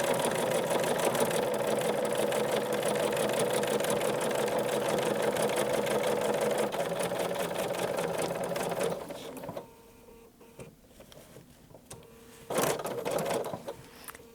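Rapid, even stitching chatter of a sewing machine working fabric for a scrappy coffee mat runs steadily for about nine seconds, stops, then gives one short final burst, close and without voices.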